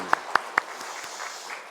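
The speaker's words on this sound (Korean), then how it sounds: "하나님 앞에 감사의 영광의 박수 올려드리겠습니다" A church congregation during a Sunday worship service claps: three crisp, close claps ring out before softening into fainter, scattered applause.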